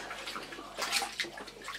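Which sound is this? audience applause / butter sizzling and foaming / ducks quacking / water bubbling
water bubbling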